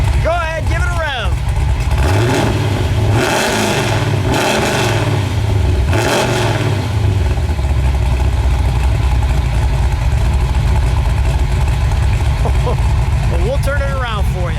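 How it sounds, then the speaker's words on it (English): A 1960 Chevrolet Biscayne with a 496 cubic inch V8 idles with a heavy rumble, then revs up in several quick surges before settling back to a steady, loud low drone. "Go ahead, give it a rev."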